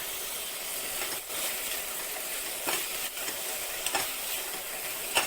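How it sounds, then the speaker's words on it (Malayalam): Tomatoes sauté in a pan for a lentil and tomato curry, giving a steady bright sizzle with occasional scraping stirs of a spoon, close and continuous, with no voices. "നന്നായിട്ടൊന്ന് വഴറ്റി നമ്മുടെ തക്കാളിയൊക്കെ ഒന്ന് വേവിച്ചെടുക്കാം"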